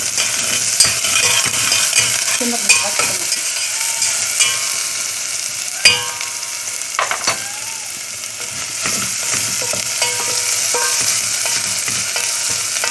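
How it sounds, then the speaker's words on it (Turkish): Rice pilaf with butter sizzles steadily in a hot pot while a spoon stirs and scrapes against the metal, with occasional clinks and knocks throughout. "Ondan sonra da bunu bir karıştıracağım böyle."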